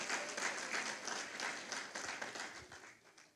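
Dense, steady applause from a church congregation fills the room during a sermon, many hands clapping together at an even level with no pause.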